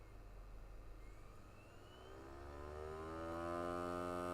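Cooling fan of a 17-inch iMac G5 spinning up indoors, a steady whirring hum that rises in pitch and grows louder over a few seconds, heard alone.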